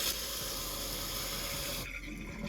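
Water drains steadily from a kitchen sink that has just been unclogged, a continuous close rushing wash that softens slightly near the end.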